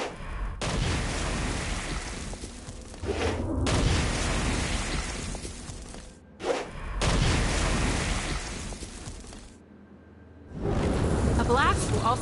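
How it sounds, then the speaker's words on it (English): Stone Blast attacks in Saints Row fired at a flying demon, a run of loud booming blasts with whooshing bursts, several heavy impacts separated by brief gaps. "Stone Blast is especially useful on flying demons like this one"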